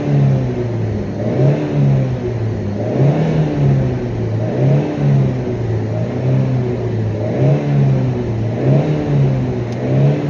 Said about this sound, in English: watch when I rev it. It just drops real fast.